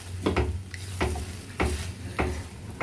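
Tomatoes sautéing in a pan for a tomato rasam-style soup: a soft sizzle with a spoon scraping the pan at a regular rhythm, roughly every half second.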